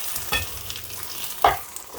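Mathanga Erissery, a Kerala pumpkin curry, being stirred in a pan, with two short scraping strokes over a soft low sizzle and no talking.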